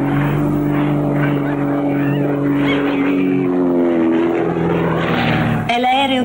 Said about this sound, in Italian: L'aereo di Max, quello?